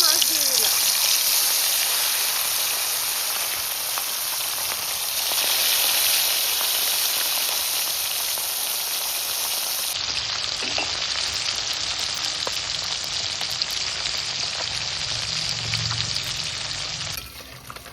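Mixed freshwater fish frying in hot oil in a wok, a steady loud sizzle and crackle running throughout, with a shift in texture midway as the fish settle, while a voice talks over it.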